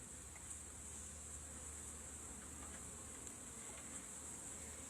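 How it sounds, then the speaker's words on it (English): Calm honey bees buzz at an open hive in a steady, continuous drone, close and even throughout with no voices. "These are very calm bees"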